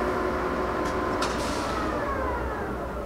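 A Ganesh 34 by 80 inch hollow spindle engine lathe turns at a low 10 RPM, giving a continuous heavy mechanical hum and rumble with a faint steady whine, loud and unchanging throughout.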